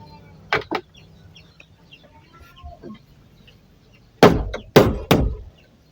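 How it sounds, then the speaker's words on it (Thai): A hammer drives nails while a bathroom is being roofed: a couple of sharp knocks, a quiet stretch, then three louder close blows in quick succession. "ตอกเบาๆนี่เด้อ"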